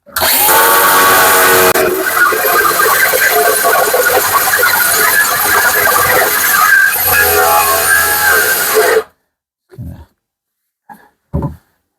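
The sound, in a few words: power tool cutting with a dry cutting disc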